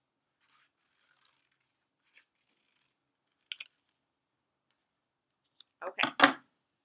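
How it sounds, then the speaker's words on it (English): Scissors snip around a paper circle for a baby bird craft, a few faint isolated clicks early on, then a closer burst of several quick cuts at the end, with no talk. "and get the paper cut out"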